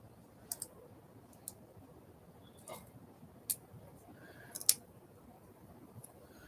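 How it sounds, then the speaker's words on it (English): Scissors cutting small pieces off a craft project, a handful of sharp, isolated snips and clicks spaced irregularly over a quiet room background. "So let's cut a little bit off these two."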